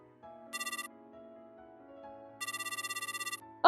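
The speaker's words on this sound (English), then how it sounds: "I got a phone call." A phone ringtone sounds in a manga story narration, with a soft melodic line underneath and two bursts of rapid, bright electronic trills, the second longer, ending as a voice starts.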